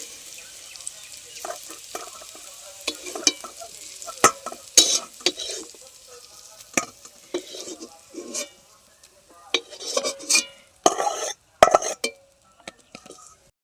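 Cooled cauliflower is mashed and stirred into fried tomato and onion in a pan for a Bengali cauliflower bharta, giving irregular scraping, squelching and clinking strokes with soft sizzling, close up and without talk.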